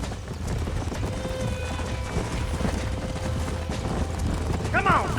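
Horses gallop with steady clip-clop hoofbeats in Red Dead Redemption, set under constant game ambience with a faint whinny near the end.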